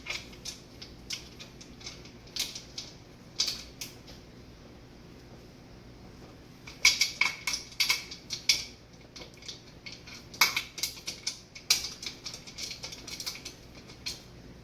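Metal canner lid being screwed down by hand, tightening alternate ends in turn while canning mushrooms, giving soft metallic creaks and clicks in scattered bursts, louder from the middle onward.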